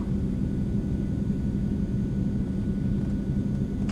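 An Eclipse 550 light jet braking hard on the runway after a bumpy landing in X-Plane 11, a steady, loud low rumble of rolling wheels and engine noise that holds constant with no talk.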